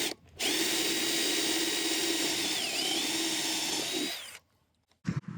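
A power drill whines steadily for about four seconds, its pitch dipping briefly under load as it bores through a wooden beehive box, then stops, followed by a couple of knocks.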